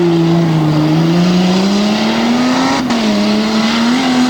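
A dirt track race car at Hagerstown speedway roars through the turns, its engine note droning loud and close with slight pitch rises and dips as it works the corner.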